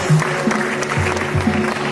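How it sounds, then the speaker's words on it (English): An audience claps at a pageant event, a brief burst of applause under a voice over a hall sound system that briefly rises over the clapping. "Big round of applause"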